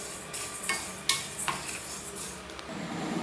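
Rice dry-roasting in a pan for a Tamil sweet, pori vilangai urundai, a continuous dry rustling scrape of grains being stirred with repeated spoon strokes against the pan, fairly close and with no talking.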